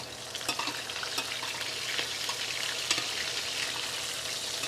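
Steak sizzles and fries steadily in a pan while being basted with garlic and thyme, a dense continuous crackle with small spoon-like clinks and stirring noises, no talking.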